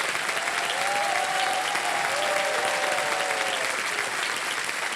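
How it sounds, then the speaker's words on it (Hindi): An audience applauds a winning quiz contestant, a steady wash of clapping from many hands filling the whole stretch, with faint musical tones underneath. "ताली बज जाए इनके नाम।"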